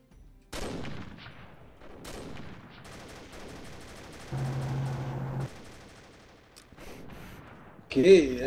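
Bursts of gunfire in the video game Combat Arms crackle intermittently, mixed with game effects and a steady hum, with a louder burst near the end.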